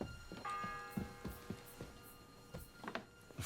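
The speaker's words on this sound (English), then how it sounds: "The fourth bell." A chapel bell rings faintly with lingering tonal overtones, struck a few times amid soft knocks and footstep-like taps in a quiet interior.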